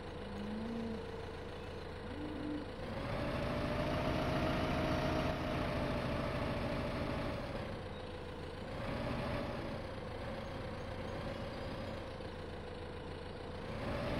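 A small tractor engine runs steadily in a farming simulator video game, with a low, continuous hum that swells and eases slightly as the throttle changes, heard alone without talk.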